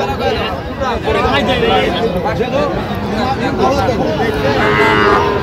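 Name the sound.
bull calves mooing at a cattle market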